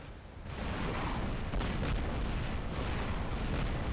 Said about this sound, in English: he's firing rockets